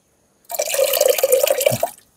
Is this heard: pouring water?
yes